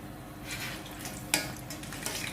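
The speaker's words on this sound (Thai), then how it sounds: "พริกแห้งนะคะ ล้างน้ำให้สะอาดแล้วก็ทอดไฟอ่อนจ้า" Washed dried chilies frying gently in oil over low heat, a soft steady sizzle with light stirring scrapes and one sharp clink of a utensil against the pan.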